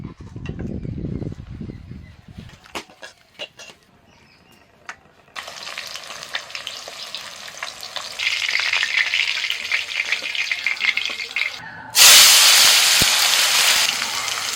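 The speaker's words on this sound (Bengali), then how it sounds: "মাছ ভাজার তেলের মধ্যে দিয়ে দিলাম টমেটো" Tomatoes drop into oil left from frying fish and sizzle loudly, the hiss swelling over the last few seconds after quieter clinks and stirring.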